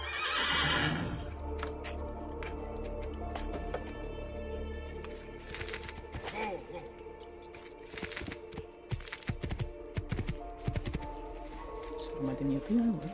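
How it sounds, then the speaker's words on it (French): A horse whinnies loudly at the start, followed by clattering hoofbeats and shifting game effects in Assassin's Creed II, with a second whinny near the end. "Vous voyez un cheval qui s'en vient ou vous l'entendez"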